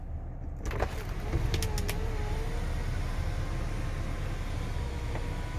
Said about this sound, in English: Coming up here, you got your full power Vista sunroof here